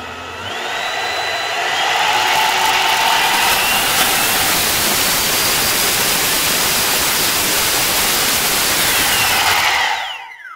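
A small brushless BLDC motor driven by a cheap 3-phase controller spins up to a loud, steady jet-like whine with rushing airflow, holding for several seconds before winding down at the end.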